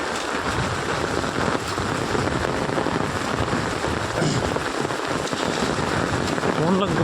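Heavy rain pours down in a village, a loud, dense and unbroken hiss of drops striking surfaces that lasts throughout with no clear pauses.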